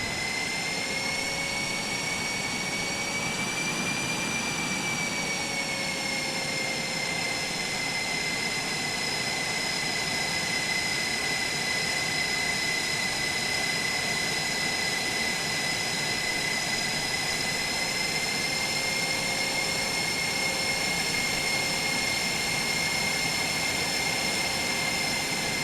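F-18 Super Hornet jet engines idling and taxiing in Microsoft Flight Simulator, a steady loud turbine whine with sustained high tones over a broad roar, unchanging throughout with no voices.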